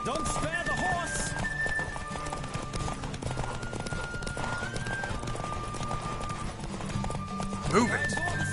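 Horse hooves clip-clop at speed with a whinny near the end, a ridden mount racing in The Witcher 3: Wild Hunt, steady and close under a running music bed and voices.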